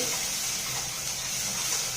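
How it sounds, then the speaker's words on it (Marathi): Water poured from a mixer jar into a pan, a steady close splashing trickle that keeps an even level throughout with no voices. "यामध्ये मी थोडंसं या ठिकाणी मिक्सरच्या भांड्यातलं पाणी घालत."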